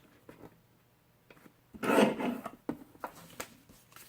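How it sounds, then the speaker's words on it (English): A paper trimmer blade slides through a long strip of card artwork in a single rasping cut, close and fairly quiet, with faint handling taps before and after. "I'll take this long strip and I'll place it in the trimmer"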